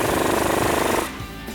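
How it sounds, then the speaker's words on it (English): A 19mm swivel socket and wrench tighten the bottom of a Jeep Wrangler JL sway bar end link, a rapid, steady metallic rattling for about a second before it cuts off and a quieter hum remains. "Now I'm going to take a 19mm swivel socket and wrench and tighten down the bottom with my end link."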